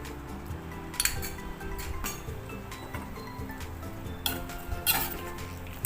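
Pork namtok salad being tossed with fish sauce and lime juice in a bowl, soft clinks and scrapes of utensils against the dish, quiet and close, with a few louder knocks.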